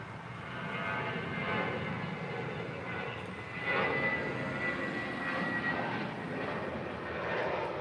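A Japan Airlines Boeing 777-300ER jet roars steadily at LAX, a broad, sustained engine rumble with a slight swell partway through, heard from a distance without any talk.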